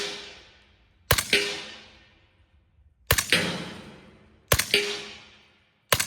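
A suppressed stainless Ruger Mini-14 Tactical side-folder rifle in 300 Blackout fires three separate sharp shots a couple of seconds apart, each a crisp crack with a short decaying tail, close and otherwise quiet.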